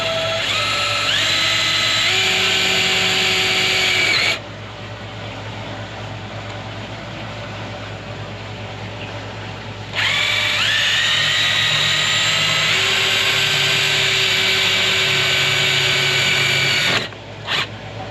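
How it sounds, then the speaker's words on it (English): A cordless power drill drives self-tapping screws into a plastic manhole riser, two long whining runs with rising motor pitch separated by a quiet pause, then a brief final burst, loud and close. "I'm just going to put 3 little self-tapping screws in the corner"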